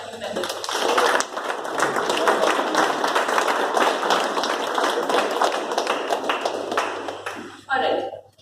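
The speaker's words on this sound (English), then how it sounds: "big round of applause for our new members" Loud, sustained applause at an installation ceremony welcomes new members, dense clapping filling the room for about seven seconds before cutting off. A brief burst of voice or noise follows near the end.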